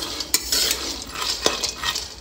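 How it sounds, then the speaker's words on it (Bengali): Peanuts being tossed with salt and oil in a wok, with a few sharp metal scraping and clinking hits from a utensil over a soft background sizzle, close and brief. "তো লবণ দিয়ে তেল দিয়ে বাদাম ভাজা এই দেখো হয়ে গেছে।"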